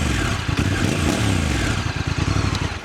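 At the tailpipe of a 2025 Honda NT1100 DCT motorcycle, the engine runs loud and close with a pulsing exhaust throb and brief rev blips, with no talking.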